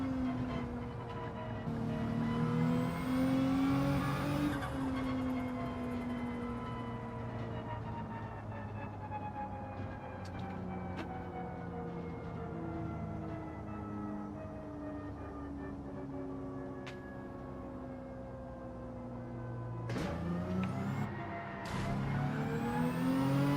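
Race car engines in Gran Turismo 7 roar steadily, with rising and falling revs through gear changes, a fairly constant engine drone and a few sharper surges near the start and end, with no talk over it.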